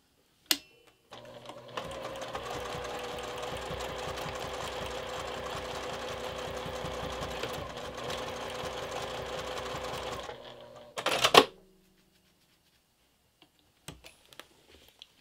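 Sewing machine stitching a fabric bucket bag, a steady fast mechanical whir with rhythmic needle clatter for about nine seconds, then a short burst of handling noise and a few faint clicks in quiet.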